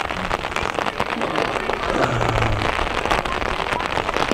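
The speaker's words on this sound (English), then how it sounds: "it's a cold breeze too, cold rain, yes." Cold rain falls steadily near Rouses Point, a dense, even hiss of drops on surfaces with scattered sharper patters, continuous and close throughout the clip, with no talk heard.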